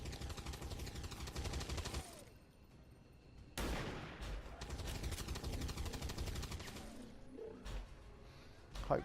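Gunfire from the X-Com 2 video game: bursts of loud, dense shots and booming reports fill most of the stretch, with a short quieter gap between volleys.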